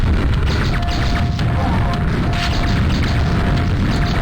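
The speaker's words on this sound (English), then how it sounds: "I love the fact I'm also shooting things with a shotgun" Loud, dense booms and crashes from the Aftershock video game, with shotgun fire mixed into a continuous wash of blasts and rumbling at close range.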